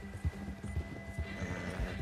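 A horse gallops in the Red Dead Redemption 2 video game, a quiet rhythmic run of hoofbeats about twice a second under low ambient noise, with no clear talk.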